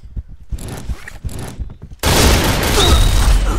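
Rapid bursts of TAR-21 assault rifle fire in the Point Blank shooter, a dense loud volley filling the second half after sparse movement and rustling sounds at the start.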